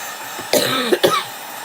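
Two close, sharp coughs in quick succession, a short throaty burst and a second one right after, in a quiet room.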